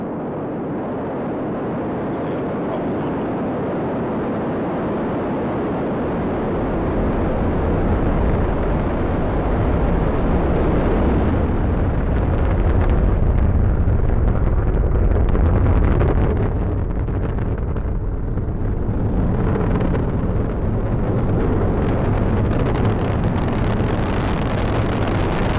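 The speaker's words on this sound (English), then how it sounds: "liftoff as Falcon 9 and Cargo Dragon take flight" Falcon 9 rocket lifting off with a Cargo Dragon capsule on a space station resupply launch: a loud, continuous broadband roar that builds over the first seconds and stays heavy and rumbling throughout, with no talk.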